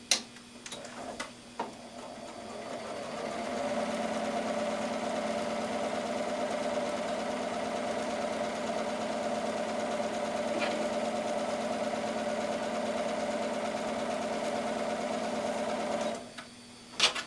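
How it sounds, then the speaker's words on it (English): Sewing machine stitching a quarter inch from the corner of a mitered fabric corner, running in one steady mechanical hum with a fast ticking rhythm for about thirteen seconds, with a few clicks at the start and end, and no talking. "You want to stitch this 1/4 inch from the corner."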